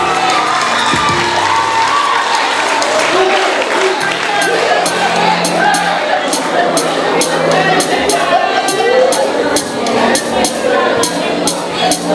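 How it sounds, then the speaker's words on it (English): A crowd at a primary school graduation service claps and cheers, with children shouting and whooping, a loud sustained mix that keeps going throughout, while sharp rhythmic claps stand out toward the end. "Give her a round of applause."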